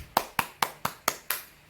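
Six crisp hand claps ring out close and alone in a steady, even rhythm, each one a short sharp smack that fades quickly.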